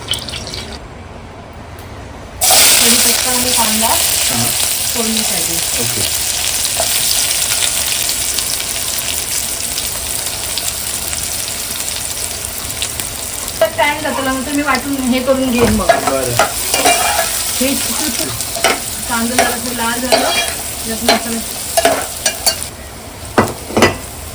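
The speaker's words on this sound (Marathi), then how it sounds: "आता फोडणीची प्रोसेस बघूया आणि तुला घेतलंय तेल आणि तेल आता गरम होऊ दे" Oil heats for a Marathi-style phodni tempering, sizzling loudly and steadily in a pan, with intermittent scraping and stirring clatters and crackles growing busier toward the end.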